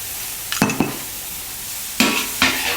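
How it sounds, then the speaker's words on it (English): Moo shu pork and eggs are stir-fried in a wok over a steady background sizzle, with two pairs of brisk scraping stir-and-flip strokes standing out close by. "Give it a good stir and flip."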